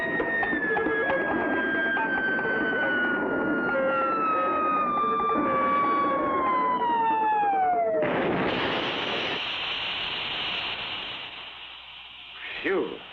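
A cartoon rocket plunges toward the moon, its loud whistling tone sliding steadily downward for several seconds before cutting into a crashing, hissing rumble that fades out, ending with a short knock.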